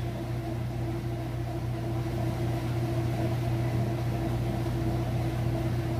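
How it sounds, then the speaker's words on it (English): A Whirlpool washing machine runs its final spin cycle at full speed, giving a steady, even mechanical hum and whir with a constant low drone and no voices. "we kicked over into that final spin. It's getting up to full speed."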